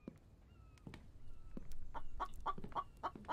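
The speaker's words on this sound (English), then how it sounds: "Where is the chicken? He needs to be quiet." Chicken clucking in a video game, a run of short repeated clucks that grow louder and busier toward the end, heard alone without talk.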